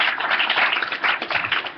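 A crowd applauding at a Verge June 2013 event, steady dense clapping filling the room, fairly loud and continuous with no talk.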